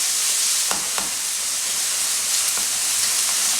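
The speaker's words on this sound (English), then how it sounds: "Remember, it's a fast little sear, and I'm going to pull it out the pan." Beef steak cubes sear in a hot pan, a steady broad sizzle running throughout with a few faint clinks of stirring on top.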